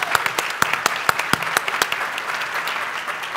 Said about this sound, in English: Round of applause for Tracy Ging.